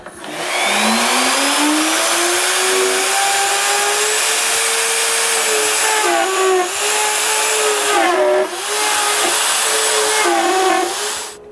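Router cutting mortises into wood for a home theater stand: a loud, steady high-pitched whine held throughout, with its pitch rising early and dipping briefly a few times as the bit loads in the cut.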